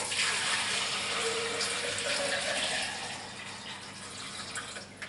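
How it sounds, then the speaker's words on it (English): Homemade coconut oil detergent being poured into a pitcher, a steady close splashing rush of liquid that eases slightly toward the end. "I think I'm going to pour some of this in the pitcher"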